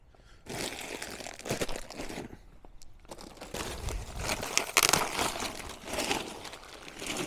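A foam RV bunk mattress being pulled from its box and unrolled, with steady crinkling and crunching of plastic packaging and rustling handling noises, fairly close and continuous, no talking.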